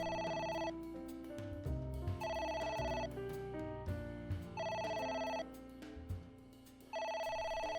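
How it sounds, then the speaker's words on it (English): A telephone rings repeatedly in a video game, with bright electronic trills in regular bursts, each followed by a short pause, over a steady background music bed. "The phone is ringing, and we're gonna completely ignore it."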